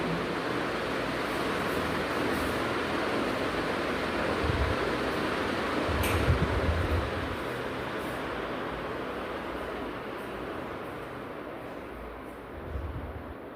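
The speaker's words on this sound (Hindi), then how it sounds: "पंखे का आवाज थोड़ा ज्यादा आ रहा था।" A ceiling fan whirs steadily in a room, giving a constant broadband hiss and hum with faint thumps, heard alone without talk.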